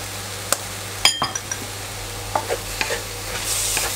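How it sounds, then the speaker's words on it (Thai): Spinach and egg stir-fried dry in a wok with seasoning, a quiet sizzle broken by sharp clinks and scrapes of a utensil against the metal, the frying hiss growing louder at the end. "แล้วก็ผัดให้เครื่องคาต่างๆเข้ากันดีครับ ผัดแห้งๆนะครับ"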